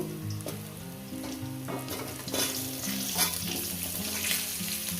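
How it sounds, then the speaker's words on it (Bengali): Taro and potato frying in oil with nigella seeds, a steady close sizzle and crackle with occasional stirring scrapes throughout, no talk. "দিয়ে দেবো একটু কালো জিরে এই তেলে করে দেবো বেশি আর তেল দেবো না মুখি কচু আলু"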